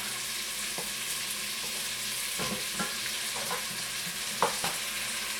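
Potatoes frying in a pot on a stove, stirred with a utensil: a steady, soft sizzle with scattered scraping and clinking from the stirring, heard alone and at close range.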